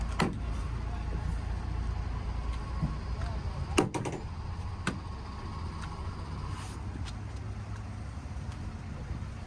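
Rear doors of a Mercedes-Benz Sprinter mid-wheelbase van swinging open, with a few sharp latch clunks and knocks over a steady outdoor engine and traffic hum.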